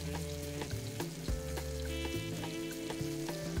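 Butter sizzles in hot oil in a frying pan, a steady close crackle running throughout, with tonal background music underneath.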